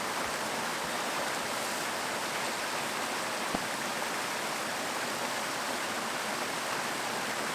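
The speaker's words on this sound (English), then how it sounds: "I'm right next to a river, or it doesn't qualify as a river. It's a creek." A creek flowing nearby, a loud, steady broadband rush of water that fills the whole stretch without pause, with one faint click partway through.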